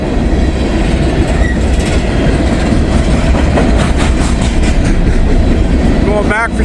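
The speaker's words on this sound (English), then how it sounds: "empty coal train." An empty coal train rolls past at night, a loud steady rumble of wagons with rhythmic wheel clatter throughout and a brief metallic wheel squeal near the end.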